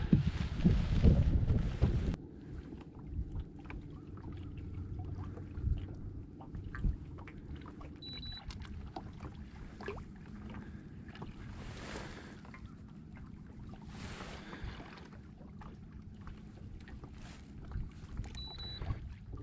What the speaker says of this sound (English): Hoping this wind will slow me down before I get to the tree.